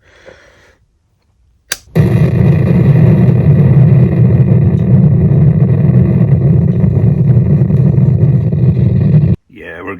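Ford Mustang engine cranked from a brief starter whir into a loud, steady idle that runs close for several seconds before cutting off, with a voice briefly at the edges.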